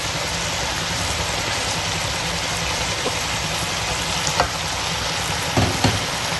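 Fried pumpkin sizzles in a pan while beef kaddu, beef with bottle gourd, is cooked: a steady, close, dense hiss of frying with a few soft clicks of stirring and no voices.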